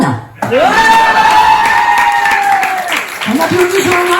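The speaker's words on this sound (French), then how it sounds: "On applaudit Johanna" An audience applauds at a live stage event, a steady wash of clapping under an announcer speaking loudly over it.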